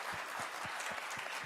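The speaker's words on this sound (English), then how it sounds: "Let's give them a round of applause" Quiet applause from an audience at a candidates' forum, a soft continuous patter with a few low thumps, faint and distant throughout.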